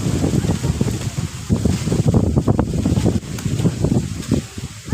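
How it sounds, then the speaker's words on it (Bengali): Strong wind blowing through a mango tree: gusty, fluctuating rustling and buffeting close to the microphone, steady throughout with irregular surges. "হাওয়া, প্রচণ্ড হাওয়া আজকে।"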